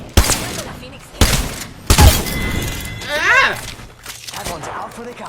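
Shotgun fire in a video game: three sharp, loud blasts about a second apart, followed by shattering and clatter. People talk over the shots.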